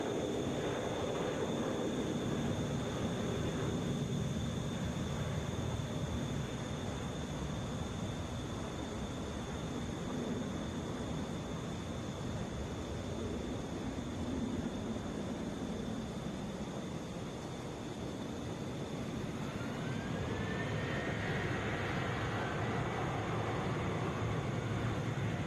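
A Southwest Boeing 737 airliner, the flight to St. Louis, at Atlanta airport: a steady, broad jet roar holds throughout at moderate distance, and a rising whine creeps in near the end.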